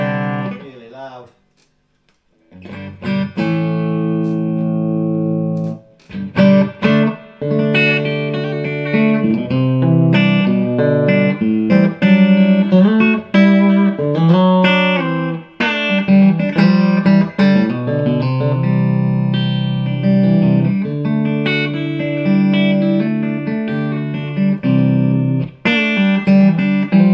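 An electric guitar rings loudly through a Fender Super 60 tube amplifier running about 470 volts plate voltage with reverb cranked up, with sustained chords and note runs after a brief pause near the start.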